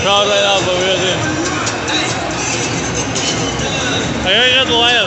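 A dense crowd murmurs and stirs in a baseball stadium before a Milwaukee Brewers wild card playoff game against the Mets, a steady loud hubbub with nearby voices talking and calling out over it.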